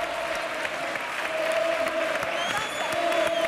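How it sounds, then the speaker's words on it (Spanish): Studio audience applauding a contestant on a Spanish TV game show, a steady, dense wash of clapping that continues throughout at close range, with a host's voice faintly heard over it. "Un aplauso a José, hombre, por favor."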